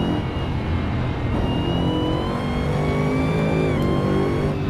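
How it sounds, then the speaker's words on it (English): A car engine in the racing game Assetto Corsa revs up steadily while accelerating, with a rising high-pitched supercharger whine layered over the rumble, loud and continuous throughout. "You can hear the whine of the supercharger while you speed up"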